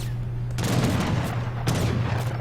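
Musket volleys crackle in Age of Empires III: a loud, dense fusillade of overlapping shots with two distinct bursts over a steady low rumble of battle.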